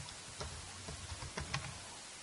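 Computer keyboard keys tapped in a short burst as a password is typed, several quiet clicks close by against a faint steady hiss.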